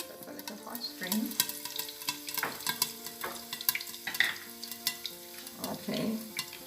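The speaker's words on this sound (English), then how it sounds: "now that it's starting a little frying action" Garlic and thyme sizzle quietly in a pot of mackerel rundown, with soft stirring and utensil scrapes in bursts over a faint steady frying hiss.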